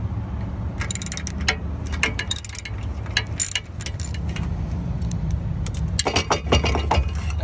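Metal bolts being unscrewed from a trailer jack mount, with close, irregular clinks and rattles of tools and hardware, no talking.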